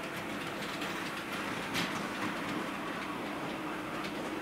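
A model railway train runs along its track on a layout, a steady rolling rumble with faint rhythmic clicking over the rail joints, moderately close and continuous throughout.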